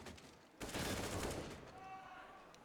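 Gunfire in a Counter-Strike match heard faintly: a short burst of shots that swells and fades, followed by a thin high ringing tone.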